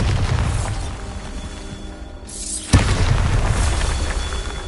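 A Bombarda blast spell from Hogwarts Legacy goes off as one sharp, loud boom. It breaks through a steady rumbling game background and leaves a lingering roar behind it.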